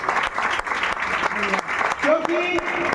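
An audience applauds a sir and madam at a DXN gathering, keeping up a continuous wash of clapping while a voice speaks over it.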